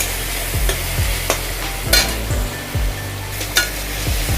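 Black chickpeas with turmeric fry in a pan, a loud close sizzle punctuated by repeated scraping and stirring strokes of a spatula against the pan, with no talking.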